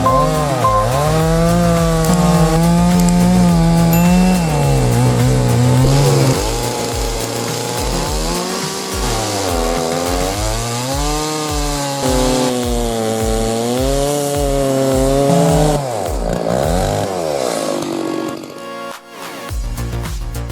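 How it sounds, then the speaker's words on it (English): A Stihl MS066 chainsaw slices through a 60 cm diameter pine log, its loud, close engine roaring steadily and sagging in pitch as it bites under load, then easing off near the end, with no talk. "With just the Stihl MS066 chainsaw, the 60 centimeters diameter pine log is sliced quickly and smoothly"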